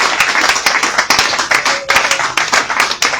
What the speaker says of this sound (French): Acclamez pour l'honneur du Seigneur.